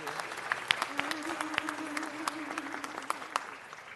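Scattered applause at a city council meeting welcomes a cappella singers, sharp individual claps standing out over a quiet room, with a voice murmuring underneath.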